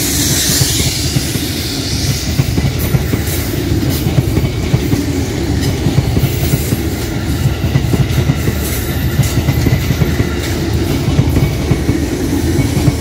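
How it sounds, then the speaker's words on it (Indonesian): A train rounding a curve into Jatinegara station, heard close and loud: a continuous heavy rumble with a rhythmic clickety-clack of wheels on rail joints and a faint wheel hiss throughout. "Kereta menikung memasuki stasiun Jatinegara."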